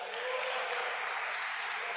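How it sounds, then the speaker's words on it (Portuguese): A church congregation applauds together, a steady even wash of clapping that fills the space and holds at a moderate level throughout, with no voice over it. "Aplaude ao Senhor."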